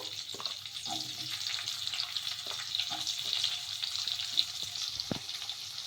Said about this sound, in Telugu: నూనె బాగా వేడెక్కిన తర్వాత అందులోకి కొంచెం జీలకర్ర కొద్దిగా జీలకర్ర వేసుకొని ఇంకా ఇందులోకి చిన్నగా కట్ చేసి పెట్టుకున్న ఉల్లిగడ్డ ముక్కలు